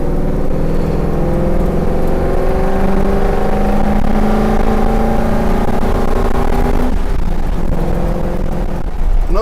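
Classic Ford Bronco with a swapped-in modern Coyote V8 roars steadily under acceleration, its loud engine note climbing in pitch through the revs before easing off near the end, close and alone.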